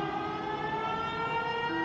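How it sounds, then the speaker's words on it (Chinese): Warning sirens wail steadily during a violent thunderstorm, a sustained tonal howl heard at a distance with a faint rumble beneath, and no talk. "警报声不断响起。"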